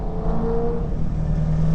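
A Holden VK Commodore 308 V8 race car with a Wayne Mankin engine and a T5 gearbox drones steadily at a race circuit, loud and close.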